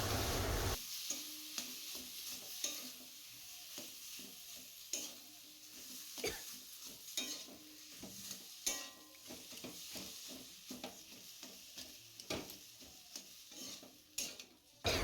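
Boiled potatoes mashed and mixed for a sandwich filling produce quiet, irregular squelching and scraping strokes with occasional clinks against a bowl.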